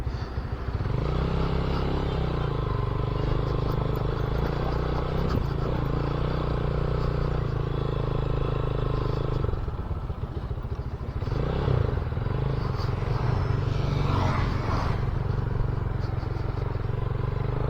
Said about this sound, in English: Let's wait for that tractor to pass.